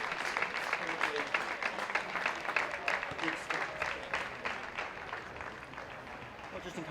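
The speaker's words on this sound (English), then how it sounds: "Billericay come out to a generous applause from the New Lodge faithful" Crowd at Braintree Town's New Lodge football stadium applauding as Billericay players come out: steady, dense clapping from a modest number of spectators, moderately distant, under a commentator's voice.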